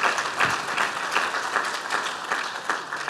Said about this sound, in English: Let's give him a very big clap,